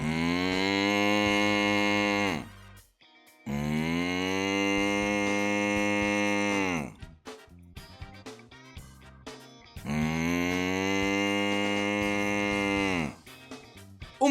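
A person imitates a cow with three long, drawn-out moos, each lasting about three seconds, separated by short pauses with faint clicks and breaths.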